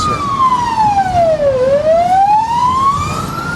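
An emergency vehicle siren wails loud and alone, its pitch sliding down then climbing back up in one long sweep as it passes on a road.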